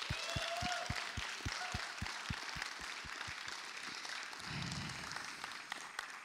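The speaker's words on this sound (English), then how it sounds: "Give them another round of applause," Audience applause and clapping for a band at a college student benefit concert for hurricane relief, a steady crowd of claps filling the room, with a low rhythmic thumping early on and a brief murmur of voices near the end.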